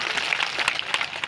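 Crowd applause welcoming guests at a village temple consecration ceremony for Rameshwar Mahadev: a dense, steady wash of many hands clapping, fairly close and continuous throughout.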